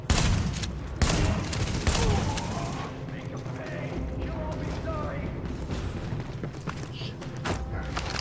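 Shotgun blasts in the video game The Division, several sharp booming shots in the first two seconds followed by mechanical reload clatter and ongoing combat noise, with voices talking over it.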